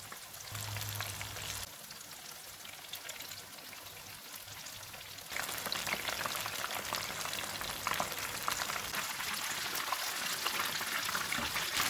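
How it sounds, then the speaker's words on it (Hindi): Chicken pakoras deep frying in hot oil on a low-to-medium flame, a steady crackling sizzle that grows louder and busier partway through, with no talking. "अब हम पकोड़े फ्राई कर लेते हैं।"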